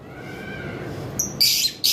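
Lovebirds kept for sale in a breeder's collection let out a few sharp, loud squawking calls in short bursts over a low background murmur.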